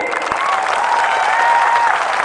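Rally crowd applauding a former minister who has just joined from the CPM, a steady dense patter of clapping with faint cheers and a voice or two above it, loud and close throughout.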